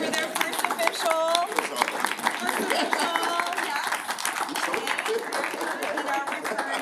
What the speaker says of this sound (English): Can we applaud our new board members for their first official?